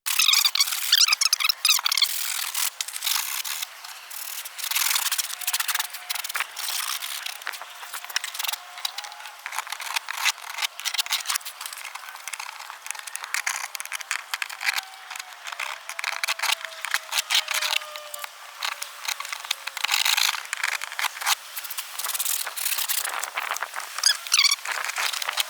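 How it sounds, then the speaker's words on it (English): Scraping old leather off a 2005–09 Ford Mustang door panel: dense, continuous scratchy rasping with crackly bursts throughout, fairly close and steady, with no talk. "Now we're going to go ahead and kind of scrape this off if we can."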